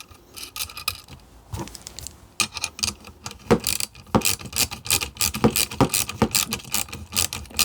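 A nylock lock nut is tightened over a plain washer on a fishing-reel ham radio antenna, producing irregular metallic ratcheting clicks and scraping that grow busier and louder after a quieter start.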